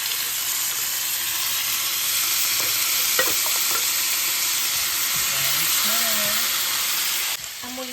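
Argentina corned beef fries in a pan with a steady, close sizzle, broken by a few stirring scrapes, and faint voices are heard in the background.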